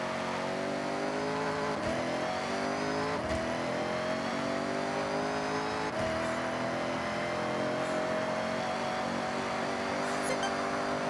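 A car engine in Forza Horizon holds a steady, loud drone with rising and falling pitch after a downshift, broken by a few brief gear-change dips and continuous road noise throughout.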